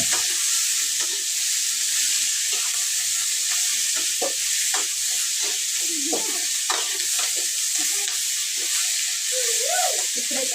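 A tomato, onion and green chili chutney is stirred in a pot over a continuous loud sizzle and hiss, with repeated scraping strokes of a spoon against the vessel.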